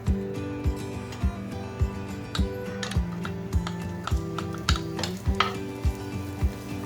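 Chopped onions and minced meat frying in olive oil, soft sizzle under regular sharp clacks of a utensil against the pan, close, with a low hum beneath and no talk.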